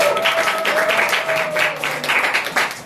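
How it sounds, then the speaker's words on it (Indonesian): Students in a sociology class applaud their classmates during a micro-teaching lesson, a short burst of scattered, moderately close clapping with a faint voice and tone running underneath. "tepuk tangan dulu untuk kalian"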